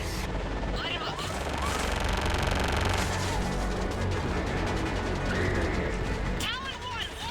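Air support in Mass Effect 3 lays down dense, continuous gunfire, a relentless rattling barrage under radio-style voices that talk over it.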